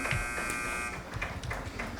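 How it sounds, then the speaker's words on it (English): A quiz-show buzzer at a Hi-Q school quiz match final sounds a steady, harsh electronic tone for about a second, then fades into a lower, busier room murmur. "First team to push its buzzer answers first."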